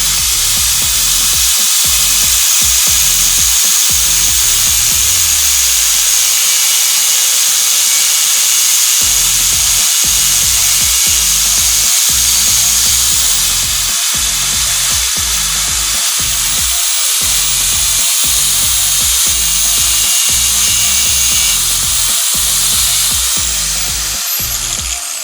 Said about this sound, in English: Cut off this other head and get our second stud.